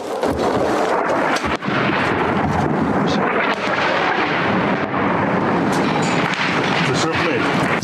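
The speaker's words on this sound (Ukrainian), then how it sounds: "Несподівано прилітають перші реактивні снаряди." Incoming rocket strike with incendiary munitions exploding over a small town's central street in wartime, a dense, continuous roar of blasts and crackling hiss, loud and sustained throughout with sharp bursts near the start.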